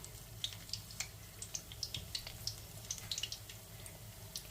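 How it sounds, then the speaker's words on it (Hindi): Gram-flour pakoras fry slowly in oil over low heat, a soft steady sizzle broken by scattered small pops and crackles, quiet and close with no talking. "थोड़ा थोड़ा करके आप डालें और स्लो हल्की आंच पे इसको तलें।"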